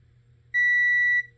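A single steady electronic tone from a multimeter continuity test on a Ryobi One+ lithium battery pack's welded connections, lasting under a second over a faint low hum.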